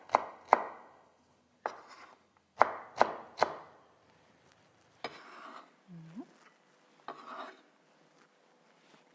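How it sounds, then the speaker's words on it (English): A knife chopping fresh onion on a board, irregular crisp thuds in short bursts and clusters with pauses between them, close and clear, with no talk. "Now we'll chop a little bit of onion."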